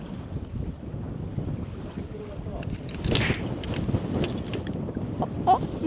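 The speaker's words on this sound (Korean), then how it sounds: "아 바람 터진다" Gusty wind buffets the microphone on a fishing boat at sea, a rough, rumbling roar that swells and fades with faint splashes and creaks in the background.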